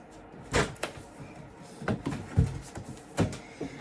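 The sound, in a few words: objects being knocked over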